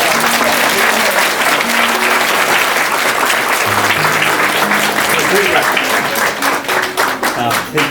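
Guests at a Christian wedding clap together in a steady, dense round of applause that carries on for several seconds, loud and close, with some voices mixed in underneath before it thins toward the end.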